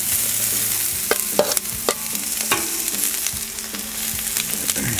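Onions and peppers hit an oiled Blackstone griddle in a steady, loud sizzle, with sharp scraping and clacking strokes from a spatula breaking through now and then alongside the sausage and potatoes.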